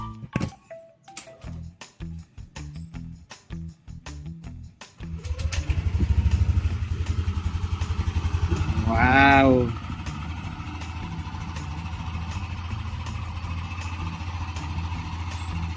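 A Yamaha Nmax V2 scooter engine starts and runs during a workshop test, settling into a steady, close idle with a short rev, after some clatter of tools; a voice briefly exclaims over it.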